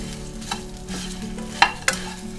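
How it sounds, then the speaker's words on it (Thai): Battered fried pork with red chili is tossed in a pan, a steady sizzle under scraping spatula strokes with a couple of sharp metallic clacks, close and without voices. "แล้วก็คลุกให้เข้ากันเลยนะคะ"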